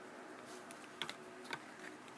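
Character name being typed in the game Novamon, a few faint, quick keyboard clicks in a short burst over a low background hum.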